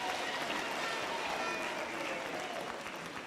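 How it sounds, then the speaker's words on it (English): Graduation ceremony audience applauding in a large hall, a broad continuous wash of clapping heard at a distance, even and sustained without distinct individual claps. "Can we give them a big round of applause?"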